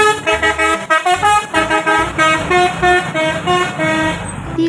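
An expedition bus horn honks in a rapid run of loud, bright, repeated blasts with a rhythmic, tune-like pattern.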